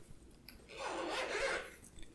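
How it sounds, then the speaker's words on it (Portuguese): Zipper being drawn open on the carrying case of Bose Noise Cancelling 700 headphones, a single close, continuous rasping pull lasting about a second, with faint handling clicks before and after. "Abrindo aqui o case, a gente já vê o fone."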